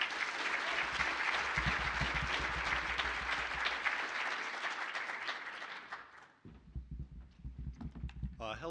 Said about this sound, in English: let's please welcome them with a huge round of applause